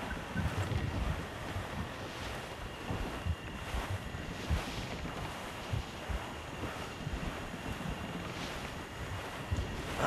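A sailing ship at sea in the video game Assassin's Creed IV Black Flag, with a steady wash of wind and rushing waves against the hull, continuous and fairly loud, with no talk.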